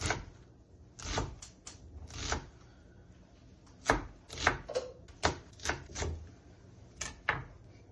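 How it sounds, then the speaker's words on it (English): A knife slicing and dicing an onion on a cutting board, with irregular crisp chops, some in quick bursts and others spaced apart, close and clear with no talking. "you can slice it like this and then you'll have finely diced onion pieces"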